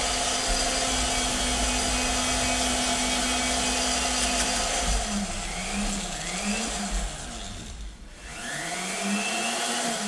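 A polishing wheel buffs an electric guitar neck with polish, a steady loud motor whine and broadband rush running throughout, with a brief pitch shift and slight dip as the piece is pressed against the wheel.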